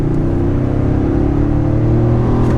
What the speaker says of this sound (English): It's hard to believe that this is a V6. That it sounds good and it has that grunt.